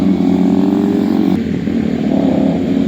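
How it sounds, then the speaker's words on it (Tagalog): A big bike motorcycle engine passing close by on a mountain road, its loud throbbing drone steady and then shifting in pitch as it moves past, heard alone without talk. "Wow, big bike."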